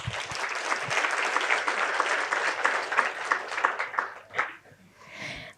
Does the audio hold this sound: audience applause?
yes